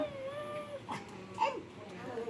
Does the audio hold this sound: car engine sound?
no